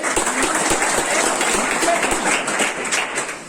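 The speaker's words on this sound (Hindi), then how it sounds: "आप लोग जोरदार ताली पाइए" Audience applause at a school event for tribal-area students in Raigarh, Chhattisgarh: a steady, dense wash of many hands clapping that fills the whole stretch, fairly loud and continuous, easing slightly at the end.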